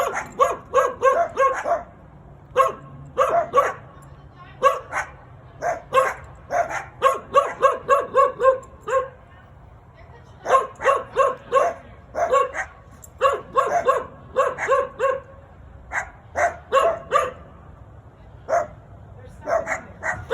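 Dogs bark repeatedly near a house porch during the holiday season, loud sharp barks and yips coming in bursts with short pauses over about twenty seconds, with some voices mixed in.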